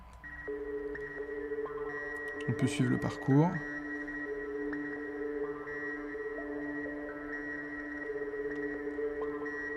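A synthesizer filter driven to high resonance until it self-oscillates, so the harmonics ring out like separate sustained notes. Steady tones hum throughout, with a brief swooping sweep in the middle, while someone speaks over it.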